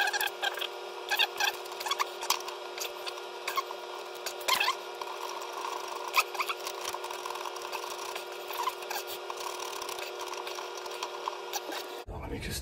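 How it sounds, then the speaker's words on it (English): A ratchet screwdriver tightens a drain saddle during a reverse osmosis system installation, giving a run of fast, light mechanical clicks over a steady background hum. "Just tighten it with the ratchet screwdriver."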